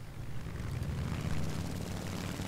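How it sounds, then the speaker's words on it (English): A Hayate fighter plane's engine in the War Thunder video game runs at full throttle, a steady, dense propeller drone with rumbling low end and no breaks or voices. "Throttle up to full and the Hayate is off the ground and it's joined the party."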